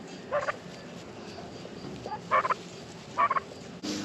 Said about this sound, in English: The turkeys are getting big.